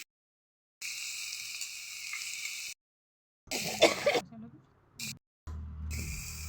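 Onions fry in a hot wok (kerahi) for a home-cooked Assamese lunch, a steady hissing sizzle that cuts off and returns in bursts, with a clatter of stirring in the middle.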